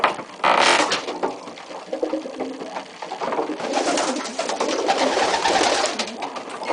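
Racing pigeons cooing inside a loft, soft repeated coos and rustling close by over a low background murmur.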